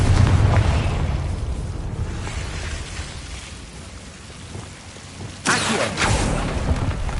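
A Confringo fire spell explodes in Hogwarts Legacy, a rumbling, crackling blast over steady game ambience, with a sharper burst of noise erupting partway through and lingering to the end.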